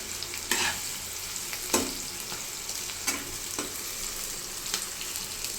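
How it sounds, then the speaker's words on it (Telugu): Plenty of sliced onions fry in oil for chicken biryani, a steady close sizzle with a ladle scraping and stirring the pan every second or so, no talk. "చాలా ఆనియన్స్ కట్ చేసి ఫ్రై చేసుకోవాలి"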